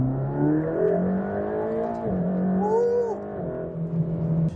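A Mercedes-AMG GT Black Series in race mode drones loudly and close inside the cabin, its engine note climbing and dipping through gear shifts with a steady, rich tone throughout.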